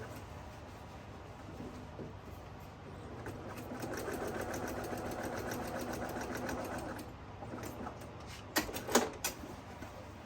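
A domestic sewing machine runs steadily while top stitching the side seams of a reversible flat-bottom fabric tote, a continuous soft whirring hum, with a few sharp clicks and knocks near the end.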